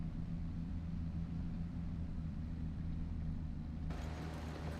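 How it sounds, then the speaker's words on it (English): A tractor engine in Farming Simulator 25, heard from inside the cab as a steady low rumbling drone at moderate volume, continuous and without voices. "The engine noises aren't bad. I like the engine noises."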